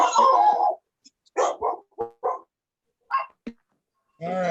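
A dog barks through an open microphone during an online court meeting, several loud, close barks in uneven bursts separated by silence.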